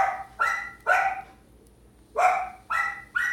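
Several dogs barking indoors, six sharp barks in two quick clusters separated by a short pause, close and loud.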